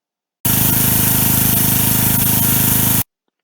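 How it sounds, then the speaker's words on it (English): A pressure washer feeding a snowmaking gun runs as a loud, steady hissing spray with a pulsing pump drone underneath, starting and stopping abruptly after about two and a half seconds. "here's a video of my snowmaking with the pressure washer and gun setup"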